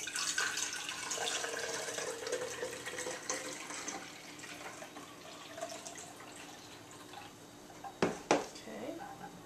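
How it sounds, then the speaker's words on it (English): Homemade almond milk poured through a small handled strainer, a steady soft trickling stream for several seconds, ending in a couple of louder splashes and clinks. "I'm going to give my milk another strain"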